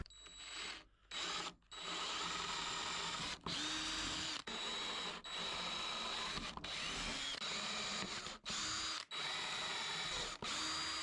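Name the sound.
power drill drilling new handle holes in dresser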